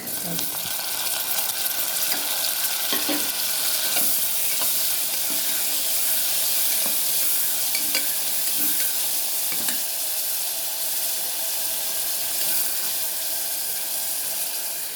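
Continuous loud sizzling of onions sautéing in a pan, a steady bright hiss with occasional stirring scrapes and pops.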